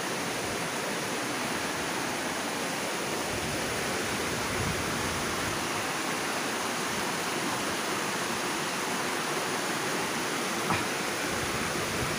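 Steady rushing of water, likely a river or waterfall, runs as a dense, even roar for the whole stretch, with no voices.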